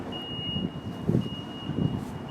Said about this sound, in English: I know you can hear beeping there